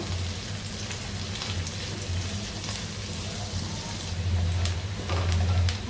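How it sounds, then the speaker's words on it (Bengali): Half a cup of onions sizzles steadily in a pan of hot oil for a chicken polao, a continuous crackling hiss with occasional louder spits and a faint low hum beneath. "পেঁয়াজটা খুব ভালোভাবে ভেজে নিতে হবে"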